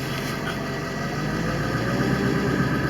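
A Ford 7.3 Power Stroke diesel engine with a fault that makes it start and die runs steadily with a loud, continuous mechanical drone and rattle, close by, with no one talking.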